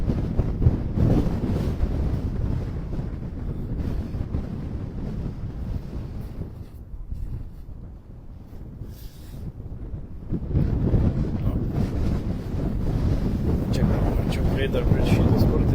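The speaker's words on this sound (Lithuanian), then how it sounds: "Vėjas stiprus pučia." A strong wind blows across frozen lake ice in Sweden during an ice-fishing competition, a continuous gusty roar buffeting the microphone that eases midway, then builds again.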